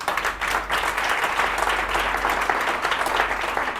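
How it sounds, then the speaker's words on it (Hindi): A crowd bursts into applause, a thick, continuous wash of many hands clapping for a few seconds over a low steady hum, with no voice standing out. "तालियां होनी चाहिए"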